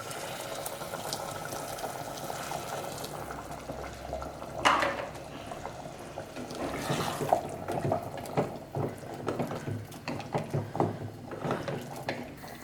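Hot water poured into chana masala curry in a pot, a gushing splash followed by bubbling and spoon stirring against the pan, close and fairly quiet.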